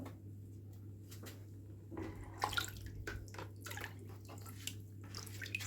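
A clay tagine is lifted out of salted soaking water after a night submerged, giving faint, scattered splashes and drips over a low steady hum, with a brief sloshing burst midway.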